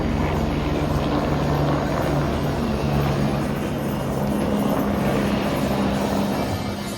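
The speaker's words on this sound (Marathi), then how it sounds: "मंडळी बघू शकता हेलिकॉप्टर" A helicopter flies overhead on the approach to the Vaishno Devi shrine, a steady, loud droning rotor and engine hum that holds continuously throughout with no talk.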